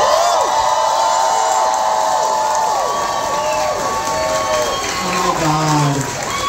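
An audience at a live comedy show in Perth cheers, whoops and claps loudly and steadily, with a person exclaiming over the crowd noise.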